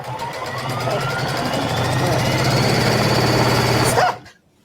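A sewing machine run by hand without its foot pedal stitches quilt binding in a steady, close, continuous whir that ends abruptly near the finish.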